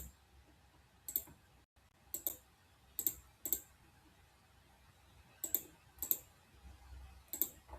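Keys on a computer keyboard click as a date value is typed: single taps and quick pairs spaced irregularly, close and fairly quiet over a low room hum.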